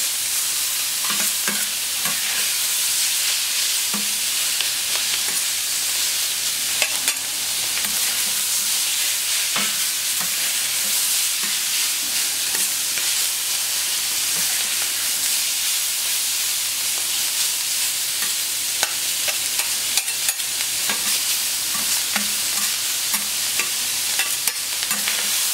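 Strips of beef fillet sautéing in a hot pan for a paprika beef Stroganoff dish, giving a loud, steady sizzle and hiss that runs without a break, with occasional stirring scrapes.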